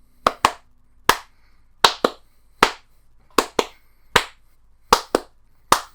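Sharp hand claps used for camera sync ring out alone in a quiet room, about a dozen loud, close claps, some in quick pairs and others spaced out, each with a brief room decay.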